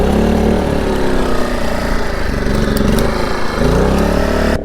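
A small engine running steadily while warming up to power a well pump off grid, a loud, continuous rough drone that holds level throughout and cuts off abruptly at the very end.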